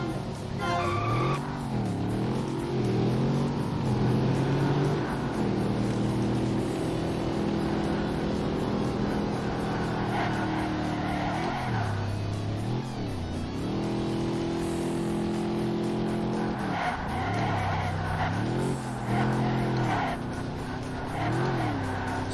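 A Ford Thunderbird races in the video game Ford Racing 3, its engine droning steadily and loudly throughout, rising and falling with revs and gear changes, with tire skids mixed in and no talking.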